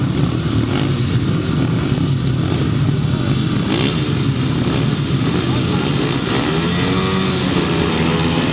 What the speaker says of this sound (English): Revving up over on that far side for race number 8 then, first heat of the 500 sidecars